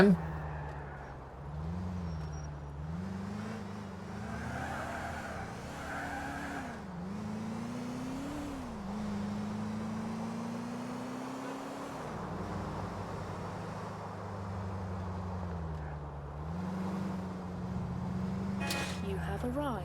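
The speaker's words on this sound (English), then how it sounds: "Of course, the engine is very quiet." A car engine drives steadily in the video game Grand Theft Auto IV, a low humming drone that rises and falls as it accelerates and shifts, with road noise and a person talking over it.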